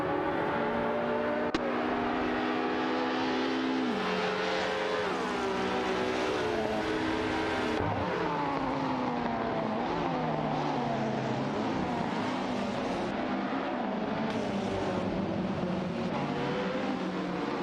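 Computer-controlled race cars in a video game race roar continuously, engines revving and shifting pitch as they accelerate through the field, loud and steady with no voices.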